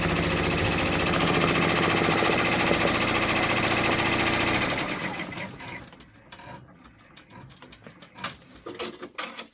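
A Brother embroidery machine stitching a quilted leaf tile, a loud rapid steady mechanical chatter for about five seconds, then it stops and only scattered clicks and handling noises remain.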